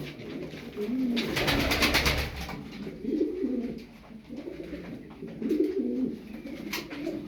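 Tumbler pigeons coo repeatedly at close range, soft throaty rolling calls that overlap in uneven bursts from a small flock.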